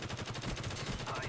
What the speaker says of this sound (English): using the stoner, send mags, which is a really good gun